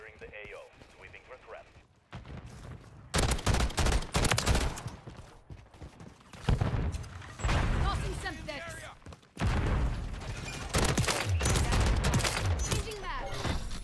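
DG 56 burst rifle fire in the video game MW3, with repeated sharp three-round bursts and other gunfire crackling loud and close, mixed with game effects, as a player talks over the action.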